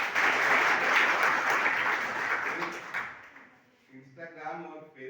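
Students applauding at a government college program, a dense burst of clapping that fills the first three seconds and then fades out, with voices and scattered sounds continuing after.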